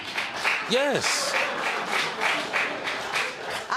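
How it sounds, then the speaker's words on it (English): A studio audience on a courtroom show clapping in a steady wash of applause throughout, with a voice speaking briefly over it. "I don't know who's clapping, the women or the men,"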